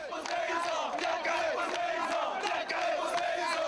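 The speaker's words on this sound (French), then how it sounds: "les candidats sont accueillis par une foule en délire, à la limite de l'hystérie" Frenzied, near-hysterical crowd at a Haitian presidential election campaign appearance, a dense continuous roar of many shouting and cheering voices, loud and unbroken for the whole stretch.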